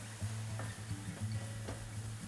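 Zucchini pasta sauce cooking down in a pan, a soft bubbling simmer with a low steady hum and a few faint ticks from the pan, quiet and close.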